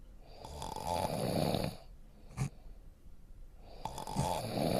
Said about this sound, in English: He up here snoring.